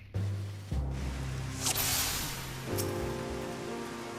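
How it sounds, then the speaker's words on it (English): Steady rain hiss from Final Fantasy XIV in the Hydatos zone, a continuous wash of falling rain over low droning game ambience and music, fairly loud throughout. "It's raining today."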